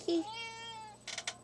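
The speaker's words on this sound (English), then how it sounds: "here comes my cat" A house cat gives a single drawn-out meow up close, clear and fairly quiet, followed by a couple of short soft rustles or clicks.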